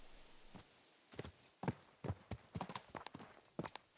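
Horse hooves clop in an uneven walking rhythm during riding in Kingdom Come Deliverance 2, close and fairly quiet, with scattered sharp individual hoof strikes.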